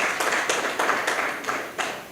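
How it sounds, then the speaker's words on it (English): Scattered audience clapping at a maternal nutrition event in Nigeria, several irregular bursts of hand claps from a room of people, moderately loud and fairly thin rather than a full ovation. "I thought I would hear a clap for that."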